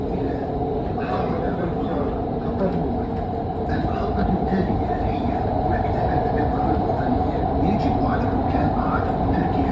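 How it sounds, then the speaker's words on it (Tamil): Steady low rumble and rattling of a short, nearly empty train running in Doha, Qatar, continuous and fairly loud throughout, with faint voices underneath. "சின்ன ட்ரெயின் தான், ரொம்ப லென்த்தெல்லாம் இல்லை"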